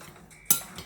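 Spoon clinking once against a bowl while grated plantain is mixed with spices and salt, a single sharp, close metallic tap with a faint scrape after it.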